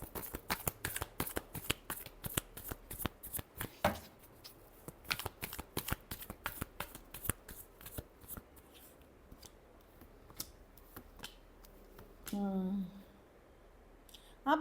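Tarot cards are shuffled by hand in a series of quick crisp riffles and slaps, dense at first and then sparser. A soft voice murmurs briefly near the end.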